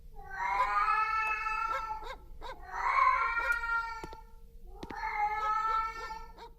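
Repeated meowing from a cat in a Pokémon video game, three drawn-out, wavering calls that sound almost like a crying baby, clear and alone with no talk.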